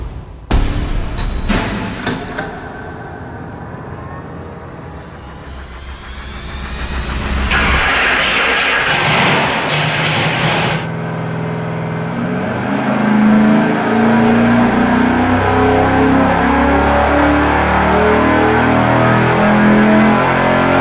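A 408 cubic-inch stroker V8 on an engine dyno cranks and fires with a few sharp bursts, then settles into a loud, close, rumbling idle before revving up and holding under load, with no talk.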